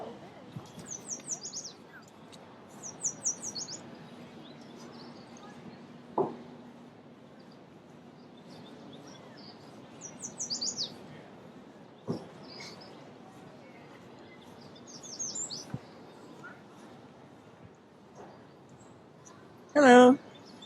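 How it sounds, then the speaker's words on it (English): A small orange bird chirps outdoors. Brief, high, faint chirp bursts repeat every few seconds, with one louder burst near the end, while people talk quietly nearby. "See him right there? Little bird in orange."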